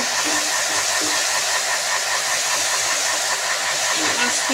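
Boal fish frying in hot oil gives a loud, dense, unbroken hiss that fills the whole moment without pause, close up and even in level.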